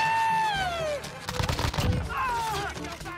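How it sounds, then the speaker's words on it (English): Bursts of video game gunfire in Call of Duty Warzone, rapid rattling shots clustered mid-clip, while a person talks over the game's other sounds. "I'm just turning in circles and shooting right now."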